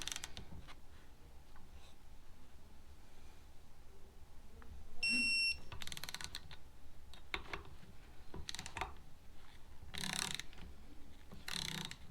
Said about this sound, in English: we're torquing it down to inch pounds